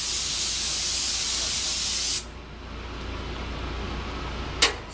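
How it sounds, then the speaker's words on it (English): Steady loud hiss of a spray gun misting colored slip onto pottery for about two seconds, then stopping, leaving quieter room noise and a brief short burst of spray near the end. "I can spray on a different color of slip"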